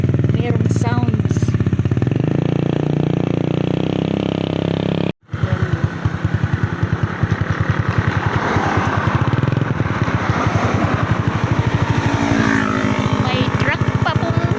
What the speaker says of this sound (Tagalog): May truck pa pong paparating. Puro pa daan. Ayan, may motor pa. Maraming motor.